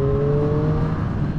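A 2020 Triumph Street Triple RS motorcycle engine hums at a steady, fairly loud pitch with a slight rise, heard close and alone for a moment.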